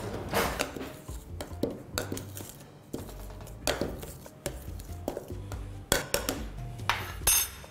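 Dry ingredients, including corn starch and baking powder, are mixed in a bowl for a chicken dish with sour sauce, giving repeated clinking and scraping strokes of utensil against the dish, close and irregular, with no talk.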